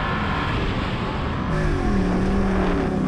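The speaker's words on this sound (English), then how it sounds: "Oh, it shifted gear at the wrong time" A Porsche revving hard while accelerating off-road through mud, engine note steady and loud, then rising in pitch after an automatic gearshift partway through.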